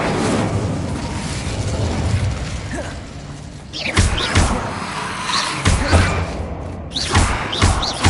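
Spell impacts in Hogwarts Legacy, including the Confringo explosive curse: a run of sharp thuds and bursting blasts in quick clusters over a busy rumbling background.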